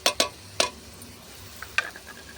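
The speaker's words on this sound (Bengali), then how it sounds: "চাল ডালটা খুব ভালো করে মশলার সাথে কষিয়ে নেব" Rice and lentils fry with spices in a pan, stirred by a utensil that scrapes and clinks against the metal in a few quick strokes over a faint sizzle.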